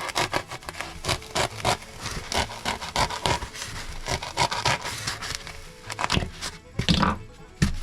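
A foam pool noodle is cut to 14 inches to make a catfish fishing jug. Steady, close rasping strokes sound like sawing and rubbing, repeating quickly for several seconds without speech.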